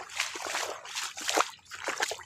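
Water trickles and splashes in short, close bursts of sloshing, uneven and fairly quiet, on a rural farm in Gujarat.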